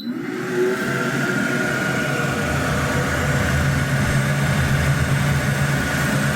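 An xTool F1 portable laser engraver runs a second pass over a print, producing a loud, steady motorized hum with faint whining tones, continuous and close with no pauses.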